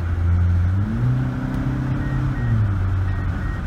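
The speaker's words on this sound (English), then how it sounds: "Kind of sounds like a little tuner car almost with that manifold leak" A Mitsubishi Lancer engine idles steadily and loudly with a raspy, ticking exhaust note from a leaking exhaust manifold, with a slight rise and fall in pitch, no voices.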